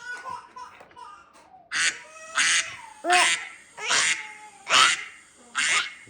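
Loud, close duck quacks come in a regular series of six, evenly spaced about once every second, after some softer sounds.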